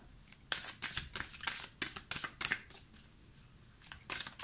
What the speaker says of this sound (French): Je vais tirer 3 cartes pour le lien.